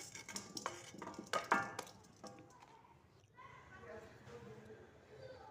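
Knife or boti blade scraping scales off koi fish, a series of sharp scratchy strokes and clatter, louder at first and then softer, with a voice talking through it.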